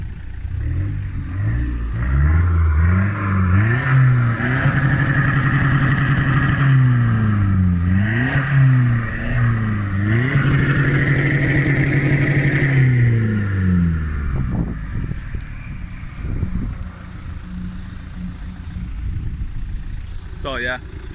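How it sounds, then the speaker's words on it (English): A Vauxhall Vectra C 1.9 CDTI 150 diesel, stage 1 tuned, revs repeatedly through a loud, raspy straight-pipe exhaust, rising and falling in pitch, then drops to idle; wind noise throughout. "give us a few cheeky revs"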